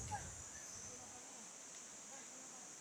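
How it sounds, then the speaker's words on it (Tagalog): Crickets calling from trees in the afternoon make a steady, high-pitched buzzing drone that carries on without a break, faint and distant. "Yung narinig niyo pong yan, yung krrrr, yan. Yan ang tunog na yan. Yun po yung kuliglig"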